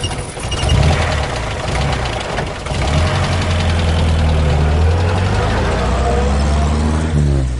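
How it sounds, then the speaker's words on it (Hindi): An old motor car's engine starts and settles into a rough, knocking idle that rumbles steadily. A voice talks over it at times. "किशोरी ने सलाम किया और मोटर स्टार्ट हुई"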